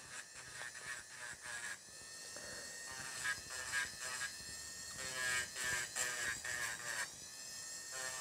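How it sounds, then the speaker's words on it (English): A portable electric nail drill runs steadily during cuticle work on a manicure, a high thin whine with small shifts in pitch as it touches the nail, close and continuous with no talking. "It's a really nice portable drill."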